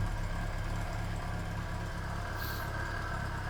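A Reliant Fox's small engine idles steadily after its starter motor was freed, a continuous low, even running drone heard close up with no talk.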